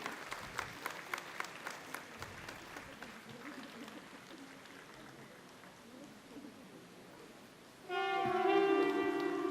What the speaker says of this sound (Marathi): जोरदार टाळ्या डॉक्टर अक्षया जैन यांच्यासाठी